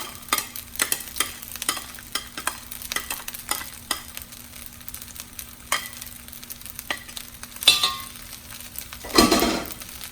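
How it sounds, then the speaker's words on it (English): Eggs are stirred into fried rice with Vietnamese pork sausage and Chinese sausage in a pan, with rhythmic utensil scrapes and clinks against the pan over a low sizzle and a louder clatter near the end. "And I'll break it up in the rice and everything else. Get it nicely mixed in."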